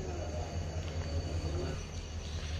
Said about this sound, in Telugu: అది మీటర్ గేజ్ ట్రైన్ అనమాట.